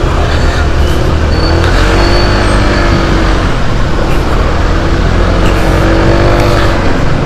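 Honda ADV 160 scooter ridden through traffic, a steady loud engine drone and road rumble close by with surrounding vehicle noise throughout, no talk.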